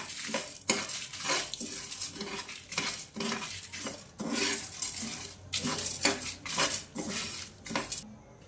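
Raw rice, curry leaves and dried red chillies dry roasting in a pan, with repeated scraping stirs and rattling grains in a steady rhythm, close and fairly loud, with no talking.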